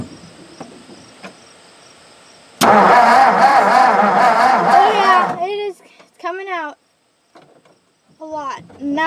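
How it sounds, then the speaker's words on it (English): A 1958 Ford F600 truck engine cranked by the starter, a loud continuous churning grind for a few seconds that stops abruptly, followed by people talking nearby, with crickets chirping faintly beforehand. "So I'll go kick it over and I'm sure gas is just going to shoot out."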